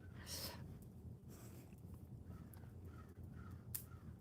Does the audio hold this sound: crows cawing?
yes